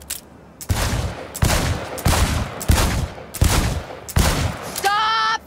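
Rapid bursts of gunfire at a shooting range in the video game Cyberpunk 2077, six loud evenly spaced volleys, each ending in a short ringing electronic tone.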